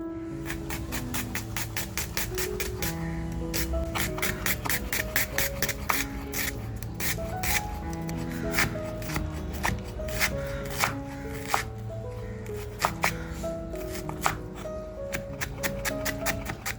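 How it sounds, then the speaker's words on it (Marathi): Onions being finely chopped with a knife on a board at home while cooking, a fast, steady run of crisp cuts continuing throughout without talk. "कांदा बघा आपल्याला अगदी बारीक कापून घ्यायचे."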